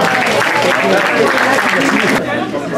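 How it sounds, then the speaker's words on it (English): A crowd applauds with steady, dense clapping, close and loud, that tapers off slightly near the end. "round of applause for Kelly."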